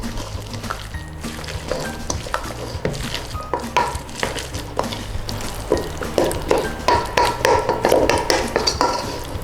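Guacamole being stirred in a bowl, with wet squelching and repeated clinks of a utensil against the bowl, close and busy, growing more rapid and sharper toward the end, with no talk.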